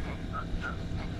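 A caught catfish gives a low, throaty croak, brief and close over a dull rumbling background at the water's edge.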